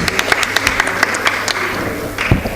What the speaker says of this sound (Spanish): Se merece un aplauso.